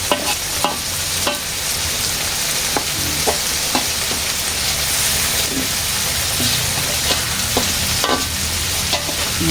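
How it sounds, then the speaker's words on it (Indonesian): Salted fish frying in a pan with a loud, dense continuous sizzle, close up, punctuated by repeated light taps and scrapes of a spatula stirring at an uneven pace. "Entong-entong iwak asin."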